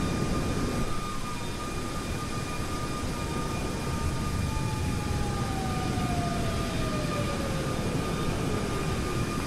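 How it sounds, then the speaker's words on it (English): An airliner passes close by in Microsoft Flight Simulator, its steady engine drone joined by a slowly falling whine that sweeps down across several seconds. "Oh, there's a plane right under us."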